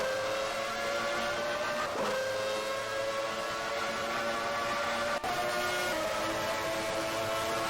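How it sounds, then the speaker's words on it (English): A Renault-powered Formula 1 car in a racing video game at the Brazilian Grand Prix drones at sustained high revs, loud and continuous, with a couple of brief gear-change blips. "and you can hear that Renault sound too."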